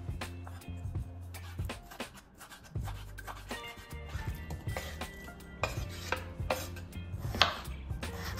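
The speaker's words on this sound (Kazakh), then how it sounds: "Мен тауықтың төс етін ұсақтап турап қосатын боламын." A knife chops chicken breast finely on a board, rapid irregular knocks and taps close by, mixed with clinking dish and utensil sounds over a low background hum.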